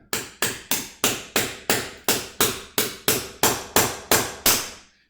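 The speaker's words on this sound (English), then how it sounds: "Hitting it with a hammer." A hammer strikes a block of ice about thirteen times in an even, rapid rhythm. Each sharp crack is loud and close, with a brief ringing decay before the next blow.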